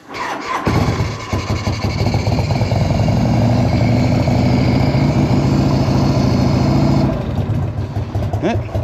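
A 1984 Harley-Davidson Tour Glide motorcycle engine starts and settles into a loud, steady, rumbling idle as it warms up, close to the microphone, with the throttle easing off near the end.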